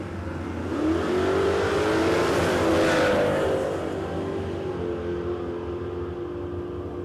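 A drag racing car with a big block Chevy engine, an HQ, launching down the strip at a dragfest, a loud rising engine roar that peaks and then recedes into a steady distant drone.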